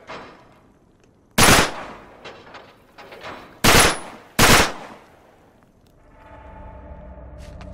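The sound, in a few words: gunshot shooting a lock, from the video game Uncharted 3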